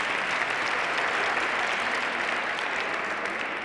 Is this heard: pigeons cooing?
no